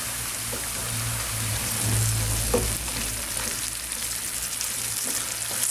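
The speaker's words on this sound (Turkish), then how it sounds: "yarım kaşık ve bir kaşık da domates salçası kullandım. İçine atalım. Güzelce bunları da yağla kavurun." Tomato paste sautéing in oil in a pan, a steady close sizzle and crackle with faint stirring scrapes, no talk.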